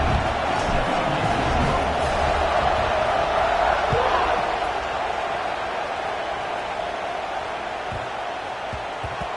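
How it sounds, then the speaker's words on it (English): Football stadium crowd, a dense steady roar and buzz filling the space after a touchdown, continuous for several seconds with faint thumps underneath. "this crowd is buzzing after that last score."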